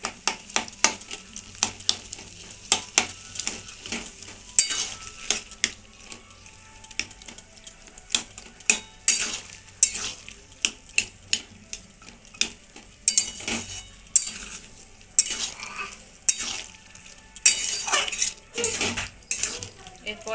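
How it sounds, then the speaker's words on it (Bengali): A spoon clatters and scrapes against a pan while ghugni is stirred, giving repeated sharp metallic clinks and knocks in an uneven rhythm, close and fairly loud, with no talk. "এইরকমভাবে ভালো করে ঘেঁটে দিতে হবে।"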